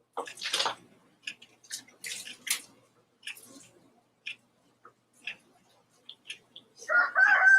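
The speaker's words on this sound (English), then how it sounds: "Roosters are letting me know it's morning. You hear them in the background." Roosters crow on a morning farm, several calls spaced apart at moderate distance, with a longer, louder crow at the very end.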